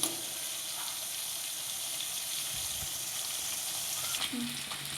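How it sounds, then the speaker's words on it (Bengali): A fish head with fish fat, onion and potato fries in oil, a soft, steady sizzle with a few faint stirring scrapes, fairly quiet throughout. "আমার মাছের তেল, পেঁয়াজ, আলু সব ভাজা ভাজা হয়ে গেছে"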